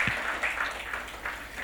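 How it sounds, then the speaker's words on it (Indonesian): Applause from a church congregation during a Sunday worship service, a steady wash of clapping lasting under two seconds at moderate level, with no voices over it. "Tepuk tangan bagi Yesus"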